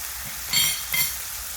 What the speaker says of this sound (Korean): 조금만 넣고 섞어주시면 됩니다